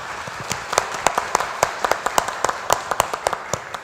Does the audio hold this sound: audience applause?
yes